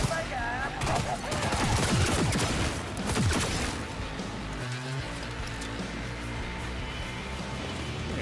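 Rapid gunfire bursts in the video game Cyberpunk 2077 fill the opening seconds, then thin out into a steadier background of game noise with a muffled thud near the middle.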